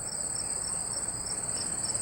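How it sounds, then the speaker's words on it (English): Crickets chirp in a steady, continuous high-pitched trill, a dense evening chorus with no pauses and no voices. "the gentle din of crickets after sunset"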